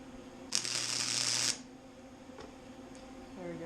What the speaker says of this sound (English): then we'll tack weld it in and stuff, and then fully weld it